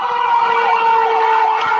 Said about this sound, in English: Is that the same ambulance?